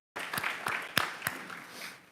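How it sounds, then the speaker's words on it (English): A modest audience at a county health survey launch event applauds softly: a handful of distinct, separate claps over a faint patter that trails off toward the end. "So I want to have everyone join me in applauding all of you,"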